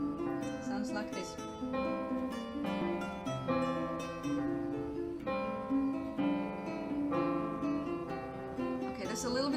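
Piano with both hands at work, a low left-hand line under right-hand notes and chords, played steadily and moderately loud with no talking.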